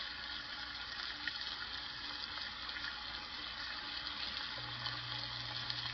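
Strips of Hormel cinnamon toast crunch flavored bacon sizzle in a hot pan, a soft continuous hiss and crackle close by, with a faint steady hum entering near the end.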